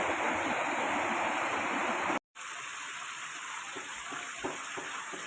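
Water flows over rocks in a stream, giving a loud, continuous rushing wash close by; after a brief cut it continues more softly, with no talk.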